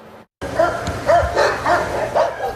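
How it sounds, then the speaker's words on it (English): Several dogs bark repeatedly at an animal shelter, loud and close, in short bursts of yips and woofs after a brief silent gap. "Except for the sound of dogs barking, an eerie silence remained at the Dothan Animal Shelter Wednesday."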